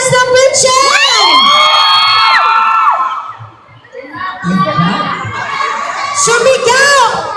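A crowd of fans shouting and cheering at a store grand opening, loud and sustained, with high excited yells and whoops, a brief dip midway before the cheering surges again.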